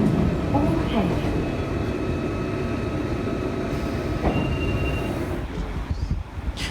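A London Underground train rumbles steadily inside the carriage with faint wheel squeal and hum, the noise slowly easing toward the end, while an announcement voice speaks over it.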